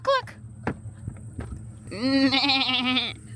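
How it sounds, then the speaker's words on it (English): Sheep in a flock in Wyoming bleat close by, with a long wavering bleat over a few shorter calls and light hoof steps. "So many sheep!"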